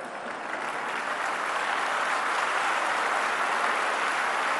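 Steady audience applause at a spiritual talk in a hall, a dense wash of many hands clapping at an even, sustained level, with no speech on top.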